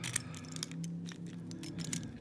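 Yale padlock keys jingling and clinking together as they are handled up close, a run of quick metallic jangles with sharper rattles near the start and end.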